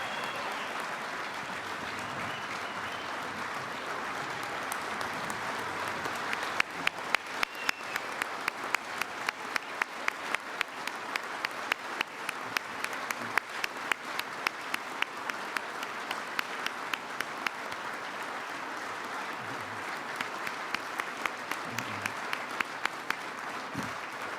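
Applause from the banquet audience at a college football hall of fame awards dinner, a broad steady clapping crowd that swells partway through with sharper, distinct hand claps standing out near the front, continuing for over twenty seconds.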